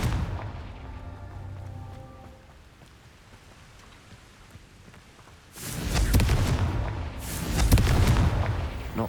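A Confringo fire spell in Hogwarts Legacy goes off as a deep, rumbling explosion. A second burning blast follows over a low background hum.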